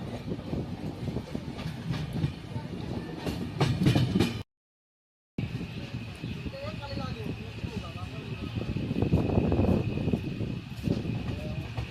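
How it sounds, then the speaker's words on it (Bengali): The Duronto Express rolls out of Howrah station, its carriages rattling with a steady clickety-clack and rumbling that swells toward the end, heard from on board with talk mixed in and a brief dropout partway through. "হাওড়া স্টেশন থেকে দুরন্ত এক্সপ্রেস নির্ধারিত সময়ে ছেড়ে দিল"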